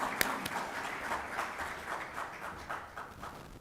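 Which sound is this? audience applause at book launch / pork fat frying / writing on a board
audience applause at book launch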